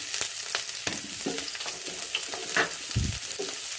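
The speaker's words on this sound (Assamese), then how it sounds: "মাছ ফ্ৰাই কৰা তেলতে মই পিঁয়াজ দি দিছোঁ" Sliced onions fry over a low-to-high flame in oil left over from frying fish. Close, steady sizzling and crackling continue throughout, broken by occasional stirring scrapes.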